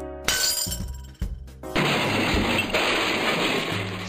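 Glass shatters loudly in the adventure game Edna bricht aus, a sharp crash followed by a dense, sustained spray of tinkling fragments that rings on for several seconds, with a brief second impact near the start.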